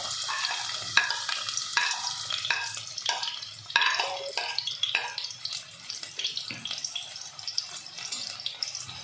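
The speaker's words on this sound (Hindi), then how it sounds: "ये जो 2 मीडियम प्याज चॉप किए थे ये इसमें जाएंगे" Two chopped medium onions frying in hot cooking oil in a pan, with a steady bright sizzle and intermittent stirring scrapes throughout, no talking.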